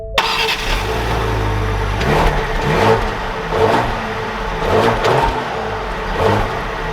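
A 2021 Ford Explorer Platinum's engine drones steadily at close range, pulling through a few surging rises in pitch as the SUV gathers speed, with no talk over it.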